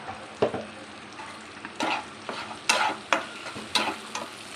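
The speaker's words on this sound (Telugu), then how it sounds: "ఇలా టమాటా కూడా ఫ్రై చేసుకోవాలండి." Tomatoes frying in a pan for a curd curry, heard as a soft, steady sizzle with repeated brief stirring scrapes and clatters at a fairly even rhythm, quiet and close.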